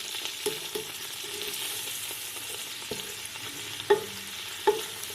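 Two chopped onions go into a cup of hot oil for matar pulao, a soft continuous sizzle under occasional metallic spoon scrapes and clanks against the pot, nearby with no voices.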